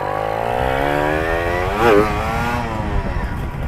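A Yamaha MX King two-stroke motorcycle engine revs, its raspy buzzing note climbing and falling and peaking in a loud, sharp blip near the middle, close up with no talking.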